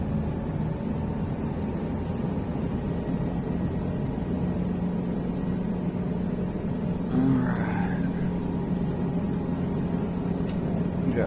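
A helicopter engine in Microsoft Flight Simulator hums steadily at a constant level, a droning rumble with no clear rise in pitch, alone with a brief faint click and swish partway through.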